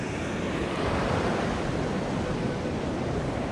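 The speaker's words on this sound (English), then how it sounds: "I'm so frightened of the waves right now" Rushing surf roars continuously and close by on a beach, a broad wash of breaking waves with wind buffeting the microphone.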